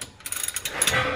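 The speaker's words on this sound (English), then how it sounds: "Just going to loosen off the drain plug a bit first." Ratchet working loose the drain plug on a Ram differential, a short rapid series of metallic pawl clicks close by, followed by a brief scrape.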